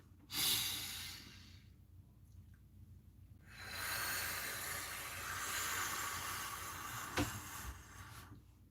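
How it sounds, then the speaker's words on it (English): One person takes a deep breath: a sharp close intake, a pause, then a long, airy exhale that fades out with a small click near the end. "Deep breath."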